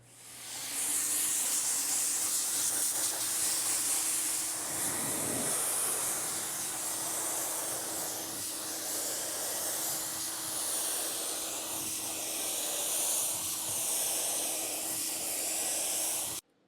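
Spray gun laying wet coats of Suzuka Blue Pearl paint over a light blue base, a steady close hiss running almost without pause, with a low hum underneath and a brief thump partway through.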